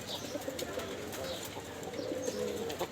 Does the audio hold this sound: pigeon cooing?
yes